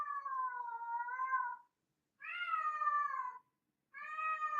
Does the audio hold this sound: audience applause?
no